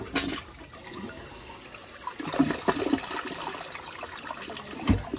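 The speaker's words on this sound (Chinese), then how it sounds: "首先我们看一下它这个冲水的情况。" A water-saving, top-efficiency household toilet with a weak flush is flushed, giving a gushing rush of water followed by swirling, trickling refill sounds with a few louder surges, close by and without talk.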